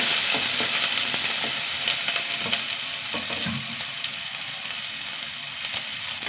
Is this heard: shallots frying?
yes